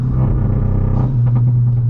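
A tuned VW Mk8 GTI engine during a rolling anti-lag launch, a loud, close, rumbling drone that holds steady and then shifts with crackling pops near the end.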